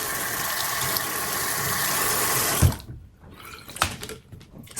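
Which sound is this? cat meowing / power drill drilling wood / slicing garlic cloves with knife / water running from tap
water running from tap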